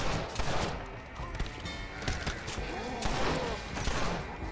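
Pistol gunfire in a cowboy video game, a rapid run of sharp shots and thuds layered with game noise, with a voice talking over part of it.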